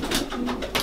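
Soft, throaty pigeon coos repeat in a quick rhythmic pattern, close by.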